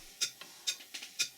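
A rebuilt Stuart Major model beam engine runs after valve timing, giving a quiet, crisp mechanical ticking in a steady beat with alternating stronger and softer clicks, heard alone.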